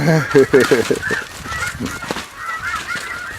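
Snow geese, including an adult blue-phase goose, honk loudly and repeatedly at close range during a hunt on the Missouri River bottoms, a quick burst of overlapping calls followed by scattered fainter honks.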